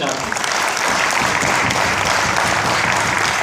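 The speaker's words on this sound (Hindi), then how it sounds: "एक बार उनके लिए तालियां बजाइए।" Audience at a Hindi kavi sammelan poetry recital applauds the soldiers: dense, sustained clapping from a crowd that stays steady and loud throughout, with some voices mixed in.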